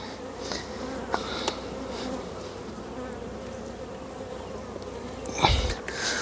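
Honeybees drone in a steady, dense hum at an opened beehive being fitted with a second storey, with close buzzing throughout, a few sharp clicks and a louder knock or handling burst near the end.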